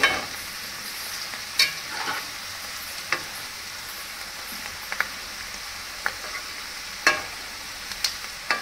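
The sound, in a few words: frying chickpea pakoras in oil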